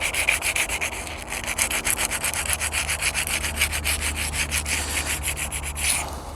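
A scratched BMW alloy wheel being sanded by hand with 80 grit sandpaper, a fast rhythmic rasping of back-and-forth strokes, close and steady throughout, easing off just before the end.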